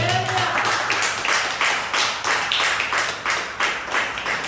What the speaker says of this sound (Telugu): చప్పట్లు కొడతాను